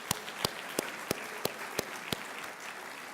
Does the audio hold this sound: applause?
yes